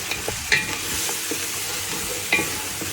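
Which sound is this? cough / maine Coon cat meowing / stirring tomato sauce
stirring tomato sauce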